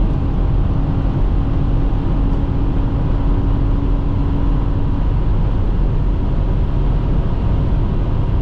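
A 2019 Volkswagen Atlas SEL V6 4MOTION driving at high speed, heard as a loud, constant low drone of engine, tyre and wind noise from inside the cabin.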